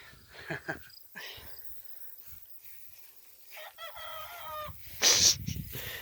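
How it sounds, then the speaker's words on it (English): A young rooster's thin, wavering attempt at crowing, brief and strained near the end, amid scattered clucks, insect chirps and quiet outdoor rustling. "That was one of the baby roosters learning how to crow."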